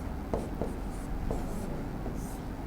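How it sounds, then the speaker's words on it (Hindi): A pen scratches across paper in steady, quiet strokes with short pauses, close by and alone over a low background hum. "अब सबसे पहले हम लिखेंगे"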